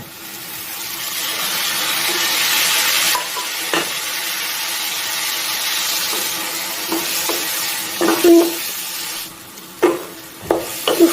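Masala with tomatoes, green chillies and achar gosht spice sizzling and frying in a pan for spicy bhindi, a loud continuous hiss broken by scraping stirs and spoon knocks toward the end.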